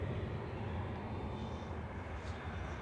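A TUI Boeing 787 taxis at Manchester Airport, a steady low engine rumble and roar heard from a distance, unbroken for the whole stretch with no voices.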